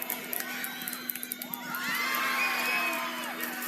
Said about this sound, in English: I want you to listen to the crowd